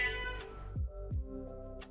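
A cat meows loudly and close by in a brief clip, two drawn-out meows following a higher earlier cry, with no talking.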